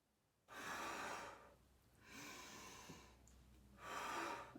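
A deep, drawn-out breath taken during a squat warm-up for a belly-breathing routine: three long, airy, close inhalations and exhalations, each lasting about a second or more, with short pauses between them and no talking.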